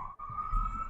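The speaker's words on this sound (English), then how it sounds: "I apologize for the sirens" A siren wails in the Scarlet Nexus video game, a steady high warbling tone held for about a second over low rumbling background sound, with no voices.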